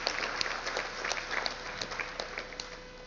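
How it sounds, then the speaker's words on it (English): Audience applause at a school sports assembly, a steady patter of many hands clapping indoors at moderate volume, no talk. "give her a little round of applause for helping us out with that"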